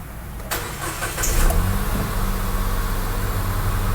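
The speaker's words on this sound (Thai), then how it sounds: "ให้เรากดสตาร์ทได้เลยนะครับ" A Nissan Almera engine cranks briefly, catches, and settles into a steady low idle, close by, with the engine warning light on.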